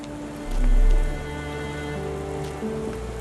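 Steady rain falls across a Victorian street scene in the Sherlock Holmes game, a soft continuous hiss with a low rumble swelling briefly near the start, no voices present.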